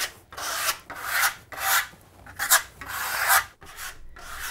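A steel trowel scrapes Venetian plaster off a wall at a high angle, making about seven dry, raspy strokes in a steady rhythm, close and clear with short pauses between them.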